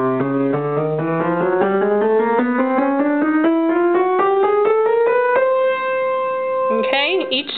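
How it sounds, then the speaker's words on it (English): Piano notes climb chromatically up the keyboard in a steady run of half steps, each key struck in even succession, clear and close with no talking until a brief final chord-like flourish. "if we play chromatically up the keyboard, it sounds like this"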